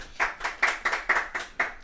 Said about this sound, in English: Give him a little round of applause for Marcus there